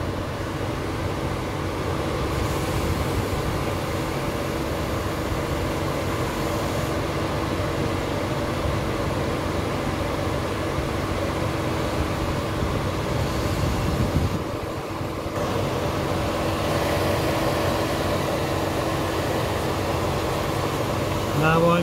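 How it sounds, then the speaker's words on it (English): A Smart Fortwo W451 1.0 L's radiator fan whirs steadily during cooling system bleeding, a continuous mid-level drone with a brief dip partway through, and faint talk now and then. "radiator fan is still running."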